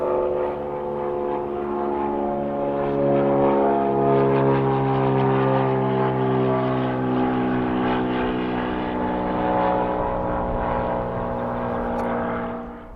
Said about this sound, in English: watch the airplanes take off and land